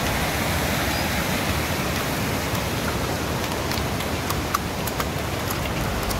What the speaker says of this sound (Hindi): इस झरने की आवाज को आप भी एंजॉय कीजिए।